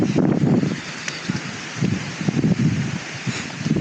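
Strong wind buffets a mountain campsite, roaring and rumbling in heavy, uneven gusts that swell and ease, with loud low-pitched microphone buffeting throughout.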